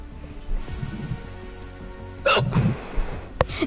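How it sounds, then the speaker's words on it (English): A person hiccups a few times in short, sharp bursts, each a quick isolated catch of breath over quiet room background. "Hiccups."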